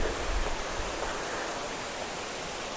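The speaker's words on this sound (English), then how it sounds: "Do you want to see this perfect waterfall?" Svirsky waterfall in Russia roars as a dense, steady rush of falling water, close and loud, with no voices over it.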